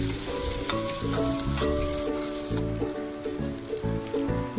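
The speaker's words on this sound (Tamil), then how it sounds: "இப்போது ஒரு முட்டையை உடைச்சி ஊற்றிக்கலாம்." An egg fries with tomatoes in a hot pan for kothu parotta, producing a dense, continuous sizzle with crackling spatter and occasional stirring scrapes, close and loud, with no voices.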